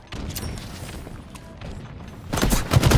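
Gunfire and a grenade blast in a competitive Halo-style Slayer match, with scattered shots early and a louder burst of explosive impacts near the end.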